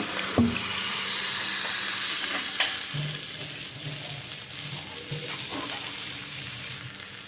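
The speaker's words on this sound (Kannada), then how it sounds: "ಮಸಾಲಕ್ಕೆ ಮಿಕ್ಸಿ ಕಲ್ದ ನೀರನ್ನು ಹಾಕ್ತೀನಿ" Water mixed in a blender jar is poured into crab masala frying in a pan for Mangalore-style crab sukka, a steady close sizzle with a few sharp splashes and stirring clinks, no talking.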